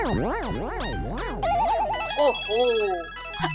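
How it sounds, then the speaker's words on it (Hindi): A phone ringtone plays loudly and alone in a Hindi TV comedy scene, a fast warbling electronic melody of repeated sweeping tones with a trilling middle stretch, filling the moment without talk. "पता नहीं किसका फोन आ गया।"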